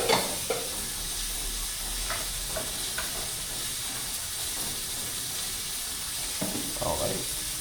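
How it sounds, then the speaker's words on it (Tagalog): Chicken frying in hot oil for Max's-style fried chicken, a steady crackling sizzle with occasional clinks and stirring knocks, close and continuous throughout. "iluluto na Alamax fried chicken"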